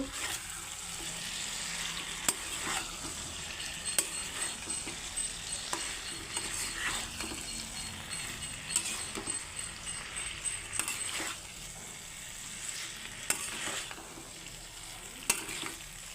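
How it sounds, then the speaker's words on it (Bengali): Green chilies and ridge gourd fry in a pan, making a soft continuous sizzle, with sharp clinks from the stirring utensil striking the pan at irregular intervals. "কাঁচা লঙ্কা ঝিঙে একসঙ্গেই দিয়ে দিচ্ছি আমি দিয়ে আবারও নাড়াচাড়া করব"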